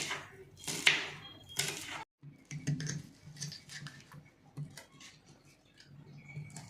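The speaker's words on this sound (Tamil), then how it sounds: "வெங்காயம் வெட்டுறேன்ப்பா." Onions being cut by hand, giving light, uneven ticking knife taps at close range, with quiet talk in places.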